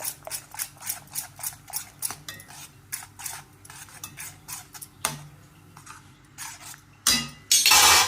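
Thick yogurt masala being whisked in a pot for Rajasthani aloo palak: a close, regular series of light metallic clinks about twice a second, later giving way to louder bursts of scraping and clatter.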